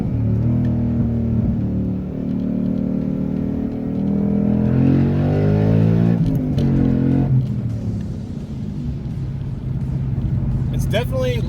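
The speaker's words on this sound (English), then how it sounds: "Let's do some downshifts." A car engine with a manual MT-82 transmission drones and revs close by as it downshifts, pitch sweeping up and down with gear changes, loud and continuous, ending with a short squeak.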